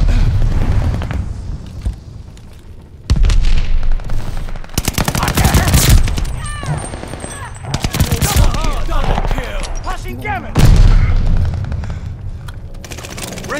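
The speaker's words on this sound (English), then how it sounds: "Stun grenade!" Call of Duty Vanguard multiplayer combat, with loud, dense bursts of automatic gunfire, booms and a stun grenade blast packed close together, plus brief in-game voices.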